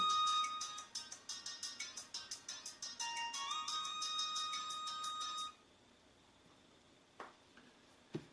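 A phone ringtone plays a quick, repeating electronic melody for several seconds, then stops, leaving quiet room tone and a couple of soft knocks.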